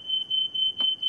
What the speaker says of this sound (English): There goes my smoke alarm.